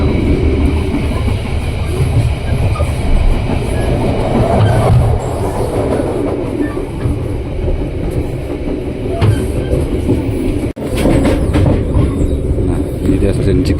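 Inside the crowded KA Lokal Merak local train, a loud, steady rumble of wheels and carriage fills the whole stretch, with clickety-clack and faint squealing, a brief dropout near the end, and passengers chatting underneath.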